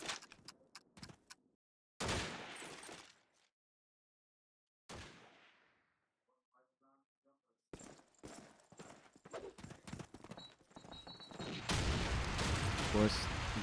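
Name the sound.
gunfire and grenades in Call of Duty 2 video game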